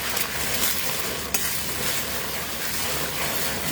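Rice and eggs being stirred and fried in a round-based pan, a steady broadband sizzle with soft scraping of the stirring utensil and one brief sharper tap, close and continuous with no talking.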